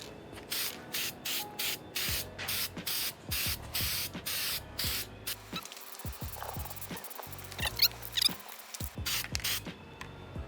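Short repeated bursts of spray paint as Steel-it coating is applied outdoors to Bronco parts, hissing in steady on-off pulses with brief pauses, close and clear with no talking.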